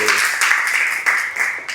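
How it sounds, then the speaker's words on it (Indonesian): An audience at an Indonesian history lecture claps together in a bright, steady patter, with a few louder accents rising through the continuous applause. "Tepuk tangan dulu."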